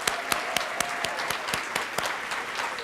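A conference audience at the Justice Works 2014 gathering breaks into steady, dense applause, with many hands clapping together at full strength throughout.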